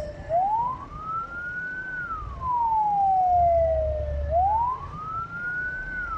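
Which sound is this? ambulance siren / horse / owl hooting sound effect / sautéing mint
ambulance siren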